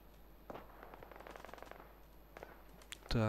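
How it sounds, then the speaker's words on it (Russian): Bursts of gunfire crackle in Fallout 4, several quick shots in a cluster then scattered ones, with a loud synthetic tone swelling at the very end. "Слышу выстрелы."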